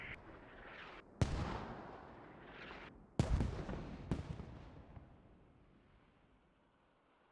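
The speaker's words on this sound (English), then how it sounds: "And I only got 3 more mortar volleys." Mortar rounds firing in the military shooter game Squad: several heavy booming blasts, each with a long rumbling decay, spaced about a second apart and fading into quiet at the end.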